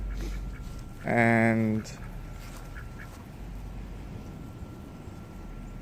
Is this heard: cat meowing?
no